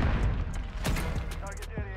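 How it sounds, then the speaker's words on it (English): A pair of grenades go off close by in the video game Call of Duty MW3, with sharp blasts landing amid a rattle of gunfire within two seconds. "Two nades right in my face, no idea where they come from"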